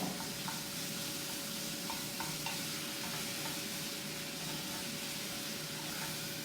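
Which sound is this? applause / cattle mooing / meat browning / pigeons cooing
meat browning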